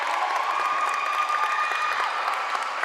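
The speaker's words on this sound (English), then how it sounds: "as you probably can hear over our mics, the crowds are, both sides are really into it already" A large crowd in a high school gym cheers and applauds loudly and steadily during a volleyball match, a dense wash of voices and clapping with no break.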